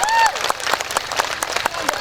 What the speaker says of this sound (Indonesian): Tepuk tangan dulu dong buat Bupati panjenengan.